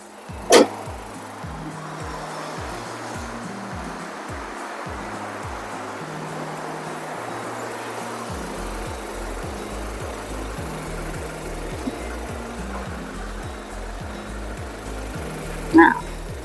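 A 2017 Isuzu D-Max Hi-Lander Cab 1.9 pickup idles with a steady, even low rumble that holds throughout, moderately close, with someone talking over it and brief sharp clicks at the start and end.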